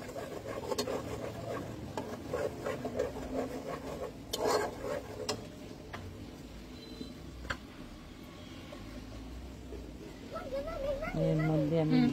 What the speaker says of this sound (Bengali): মশলাটা সম্পূর্ণ দিয়ে বেরেতে ভালো করে এটা কষাতে হবে।